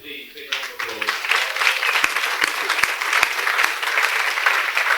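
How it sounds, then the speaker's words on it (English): Audience applause at the Getahead Festival, a dense sustained burst of clapping that starts abruptly and stays loud and steady, with a few sharper individual claps standing out. "Please, big round of applause."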